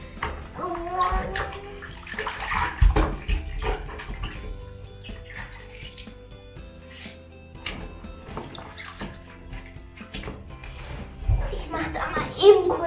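Water pours and splashes into a bucket while brushes from a cleaning box are washed, with irregular sloshing and dripping close by as someone talks over it.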